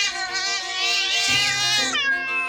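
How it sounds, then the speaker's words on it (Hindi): Hungry cats meow in a long, loud, overlapping chorus of drawn-out wavering cries, close and continuous, with pitches sliding up and down. "बिल्लियाँ? भूखी बिल्लियाँ।"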